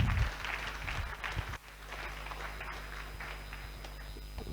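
An audience at a Ghana Police Service community session with the Zongo community applauds in a dense, steady patter of clapping from many hands. It starts loud, then settles into softer continuous applause in a large space.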